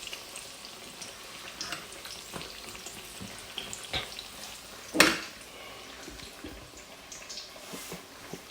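Plantain fries in a pan for a Jamaican meal, giving a soft steady sizzle and crackle up close, with light scrapes and one sharp clatter partway through.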